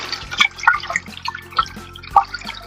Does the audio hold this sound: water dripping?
yes